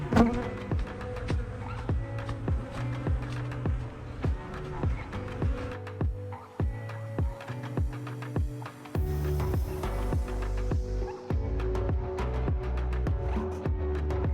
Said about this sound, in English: The rapeseed is almost in full bloom and the bees are very active.